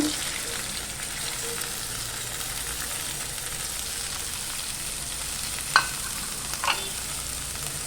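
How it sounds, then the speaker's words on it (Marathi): Potatoes frying in a tempering (phodni) of green chilli in a pan give a steady, fairly quiet sizzle, with two brief sharper clatters near the end. "आता आपली फोडणी छान परतून झालेली आहे आता आपण त्यात बटाटे टाकून घेऊया"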